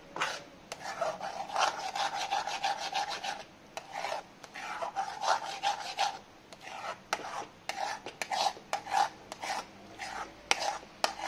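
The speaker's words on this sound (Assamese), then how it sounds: "এইখিনি মই কণ্টিনিউৱাছ লৰায়ে আছোঁ।" Milk thickening in a pan for rasmalai is scraped and stirred continuously, giving rhythmic rasping strokes at close range, repeated steadily with brief pauses and no talking.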